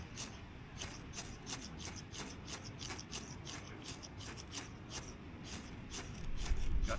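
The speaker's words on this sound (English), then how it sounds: "I got my flint starter." A flint fire starter struck again and again outdoors on a windy mangrove island beach, making a rapid series of sharp scraping rasps at a steady rhythm over constant wind and surf noise.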